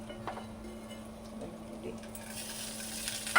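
Dried red chillies and a little ginger with fenugreek sizzle in hot oil for a Kerala moru curry, a steady, quiet frying hiss with faint stirring and a brief clink at the end.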